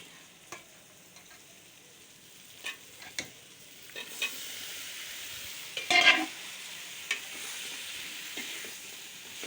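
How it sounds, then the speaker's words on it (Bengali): Bottle gourd sautés with cooked-down spices, a soft low sizzle broken by scattered utensil scrapes and one louder stirring burst near the middle. "মশলা কষা হয়ে গেছে, এর মধ্যে লাউ দিয়ে দিব।"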